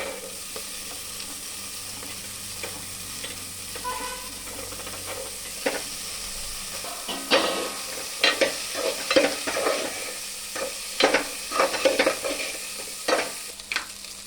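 Mixed vegetables and peas stirred and frying in a pan, a steady low sizzle with scraping stirs growing louder and more frequent in the second half, no voices.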